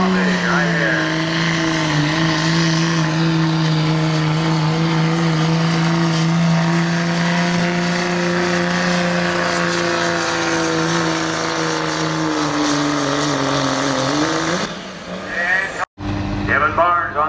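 A diesel work-stock pickup strains down the track at a truck pull, its engine droning loud and steady with a high whining note for about fifteen seconds, then cutting off abruptly before an announcer is heard.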